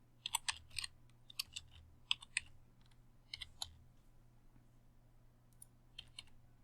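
Quiet typing on a computer keyboard, with scattered clusters of soft key clicks in short irregular bursts, close and faint over a low steady hum, and no speech.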